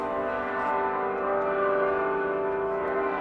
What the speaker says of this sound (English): There is something shrill about the bells of St. John Bosco in Miami.